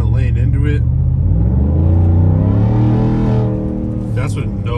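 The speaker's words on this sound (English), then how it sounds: "this is what it sounds like while you're driving." Borla Atak exhaust on a 2022 Ford F-150 under hard acceleration while driving, a loud, steady low rumble with rising engine tones heard from inside the truck, quieting slightly near the end.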